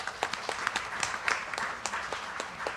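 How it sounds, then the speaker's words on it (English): An audience applauds at a Sunday morning satsang in a mandir, steady clapping from many hands with distinct sharp claps audible, fairly close, with no voices over it. "Let's give them a big hand, please."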